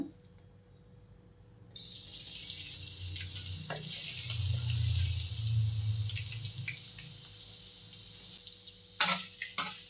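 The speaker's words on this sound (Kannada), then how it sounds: "ಹಾಗಲಕಾಯಿ ಎಣ್ಣೆ ಒಳಗೆ ಚೆನ್ನಾಗಿ ಫ್ರೈಯಾಗಿ" Chopped bitter gourd dropped into hot oil, starting after near-silence with a sudden loud sizzle that holds steady and slowly eases, and a few clattering knocks near the end.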